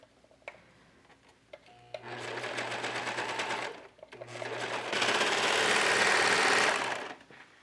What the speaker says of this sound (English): And with the serger, when you cut,